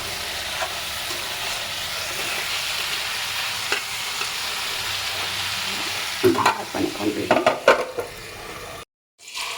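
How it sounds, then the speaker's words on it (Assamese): Broiler chicken meat sizzles steadily as it fries in a non-stick pan over a lowered gas flame with ginger and garlic, then a few louder scrapes and clatters of stirring come near the end before a brief cutoff. "এয়া দেখিছেনে মোৰ মাংস প্ৰায় ভাজ খাই আহিছে"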